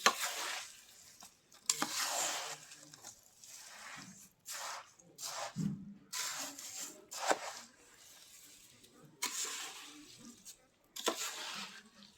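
Edible gum (gond) and still-warm wheat flour are stirred together in a pan for laddoos, giving soft, intermittent scraping and rustling strokes in short bursts with quiet pauses, close and fairly faint.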